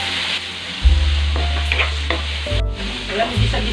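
Pork sizzles and fries loudly in a hot pan for Ilocano igado, stirred now and then with scraping and clattering, a steady close hiss throughout.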